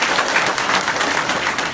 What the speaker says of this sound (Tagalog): O palakpak.